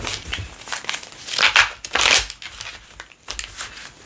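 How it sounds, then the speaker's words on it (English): Tarot cards are riffled and shuffled by hand in quick papery bursts, with louder flurries in the middle and softer card handling around them, close up and with no voices. "Let me just shuffle these better."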